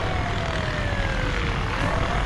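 Steady engine drone of a helicopter overhead during a police chase in Orange, California, loud and continuous with a faint descending whine.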